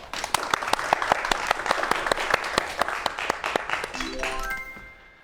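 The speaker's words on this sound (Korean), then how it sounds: "박수 좀 부탁드릴게요" Audience at a science lecture claps in a steady, close burst of applause that tapers off after about four seconds, with a faint voice underneath.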